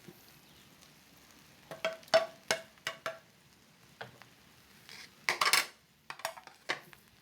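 An egg cooks in a pan for seafood fried noodles (bihon). A utensil scrapes and clatters against the metal pan in short, irregular bursts over a faint, steady sizzle, close up.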